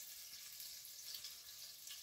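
Four tablespoons of butter with a tablespoon of olive oil melting in a pan, giving a soft, steady hiss of gentle sizzling without voices.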